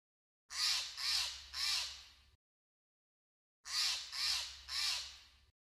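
A crow caws three times in quick succession, pauses, then gives another run of three harsh caws, loud and close with no other sounds.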